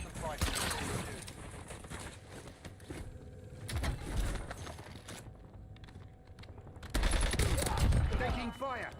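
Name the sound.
gunfire in Call of Duty Black Ops video game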